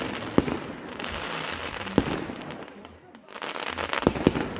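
Firecrackers pop and bang at a New Year celebration, sharp loud cracks landing in irregular bursts over a constant crackling wash, with people talking in the background.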